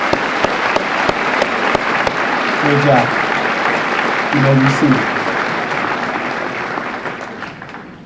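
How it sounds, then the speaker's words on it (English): A high school senior assembly audience claps in a steady, dense round of applause that fades out toward the end, with a person speaking briefly over it. "Let's give them a round of applause."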